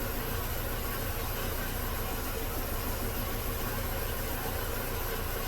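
Engine of a 2003 Mini with a CVT transmission idling in a workshop, a steady low hum and rumble holding an even level throughout, fairly close and without talk.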